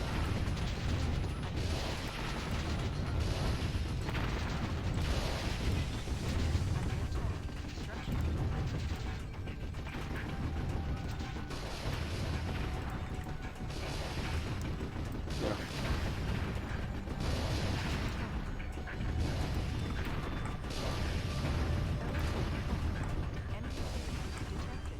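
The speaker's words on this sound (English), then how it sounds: "And there's more mortars up there, as it bombards technically." Mortar bombardment in the strategy game Warzone 2100 pounds away as repeated dull thumps and mechanical clatter over continuous battlefield noise, with a voice talking over it.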